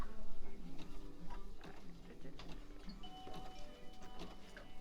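An embroidery sewing machine stitches with rapid mechanical ticking and whirring, steady and close by, with a faint voice in the background.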